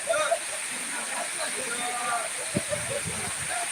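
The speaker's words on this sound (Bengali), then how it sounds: "শেরপুর জেলার তিরবতী থানায় প্রচুর পরিমাণে বৃষ্টি হচ্ছে" Heavy rain falls in Tirbati, Sherpur district, Mymensingh division, Bangladesh: a steady, dense hiss of downpour fills the whole clip, with a few brief low knocks and thumps near the end.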